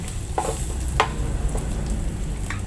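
Garlic, ginger and onion frying in rendered chicken fat for a chicken sinigang with calamansi, a steady close sizzle with a few brief stirring scrapes and no one talking.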